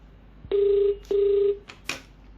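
Ringback tone of an unanswered phone call: two steady, moderately loud buzzing tone bursts about half a second each with a short gap between them, followed by a couple of faint clicks.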